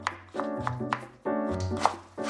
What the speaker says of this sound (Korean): 칼질하는 모양새가 요리꽤나 해본 솜씨네요